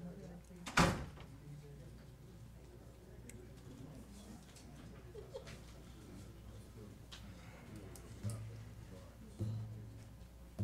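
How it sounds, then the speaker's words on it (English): A door is shut in a county commission meeting room: one sharp, loud thud near the start, then faint room noise and small knocks that stay quiet. "Let me see if I can shut that door."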